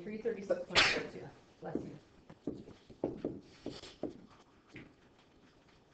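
A single sharp sneeze bursts out near the start, loud and close, followed by ordinary talking in a room.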